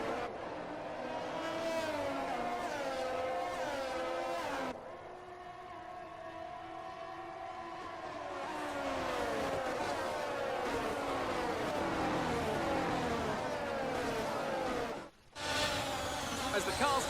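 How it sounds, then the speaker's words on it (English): F1 cars in a racing video game run the formation lap at the Monaco Grand Prix. Several engines whine and rise and fall through the gears, passing close and loud over steady drone, with a spoken voice over the top. "The formation lap gets underway and every driver will be looking to settle in for the race ahead"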